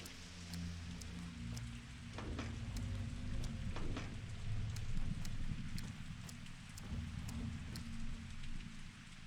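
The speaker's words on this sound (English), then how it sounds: "It's raining." Steady rain falling in the video game Pathologic 2, a soft continuous patter with scattered sharper drips and ticks, faint and even throughout with no voices.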